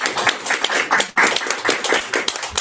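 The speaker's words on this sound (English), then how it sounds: "I think she needs a round of applause" An audience at a genealogy society branch meeting gives a guest a dense round of applause, many hands clapping loudly and continuously with a brief dip partway through.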